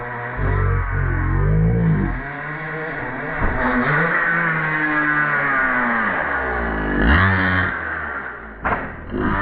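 A nitro-fuel RC car with a modified RCR engine revs up close and loud, its high-pitched whine rising and falling through repeated throttle blips with a rattling buzz, with no voices.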